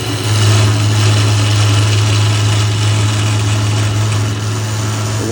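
A 25 mm Forstner bit drills into hard, dense white ash, giving a steady, loud, close motor hum that barely changes throughout.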